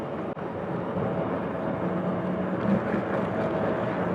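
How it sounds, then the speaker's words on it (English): An airplane drones overhead, a steady faint rumble heard from a distance behind quiet outdoor ambience while riding an ENGWE E26 all-terrain e-bike, with no talking. "You can probably hear that airplane ahead over any kind of a bike noise that the bike is making."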